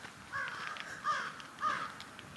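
A crow caws three times from a distance, the calls faint and evenly spaced over a steady outdoor hiss in a wetland and prairie state park.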